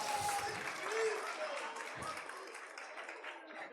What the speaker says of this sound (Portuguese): Só as louras que aplaudiram